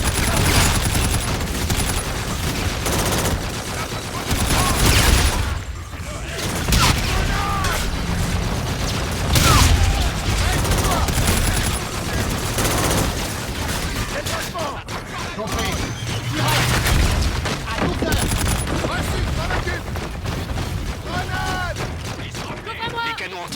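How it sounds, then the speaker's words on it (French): Rapid bursts of heavy anti-aircraft cannon fire and explosions pound through a loud Call of Duty: Infinite Warfare soundtrack, with French voices talking over the continuous din. "Les canons anti-aériens nous prennent pour cible."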